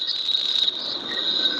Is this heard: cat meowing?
no